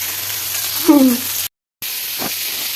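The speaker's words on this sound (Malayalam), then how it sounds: "അതാണ് കൂന്തൾ പൊരിക്കുമ്പോൾ എല്ലാവരും ശ്രദ്ധിക്കണം പൊട്ടിത്തെറിക്കും" Squid frying in hot oil gives a steady broadband sizzle with a short, sharp burst partway through, a brief gap of near-silence, then the sizzle resumes with a faint pop.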